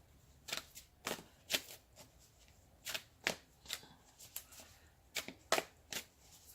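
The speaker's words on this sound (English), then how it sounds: "I'm actually pulling these cards and not selecting them myself" Tarot cards are shuffled and pulled from the deck in a series of crisp, close riffles and snaps at an uneven rhythm, heard alone in a quiet room.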